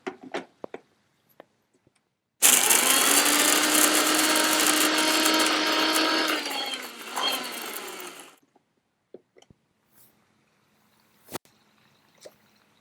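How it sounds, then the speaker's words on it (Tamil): A mixer grinder grinds spice powder, whirring loudly for about six seconds, its motor pitch dropping as it winds down, followed by a few faint clicks and knocks. "இப்போ நம்ம இந்த பொடியை அரைச்சிக்கிட்டோம்"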